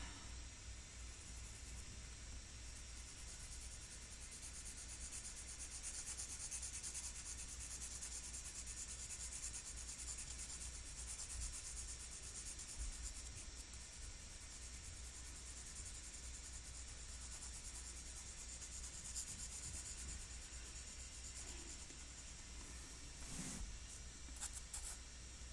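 A 2H graphite pencil lightly shading paper, a faint, continuous soft rubbing hiss that runs steadily throughout with a few small taps near the end.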